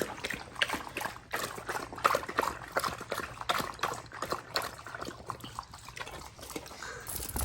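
A Belgian Malinois laps water from a bowl at a campsite, producing quick, irregular wet slurps and splashes close by, with faint rustling in the background.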